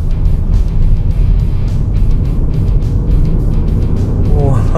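A Mitsubishi Destinator with a 1.5-litre turbo engine accelerates in tarmac mode, heard from inside as a loud, steady drone of engine and road noise that holds through the whole stretch.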